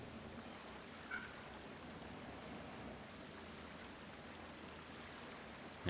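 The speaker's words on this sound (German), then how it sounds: "hier sprudelt leider das Wasser so ein bisschen rüber" Water spilling and bubbling over in a zoo enclosure in Planet Zoo, a steady, even rushing wash like a stream or small waterfall, held at a constant level throughout with no voices.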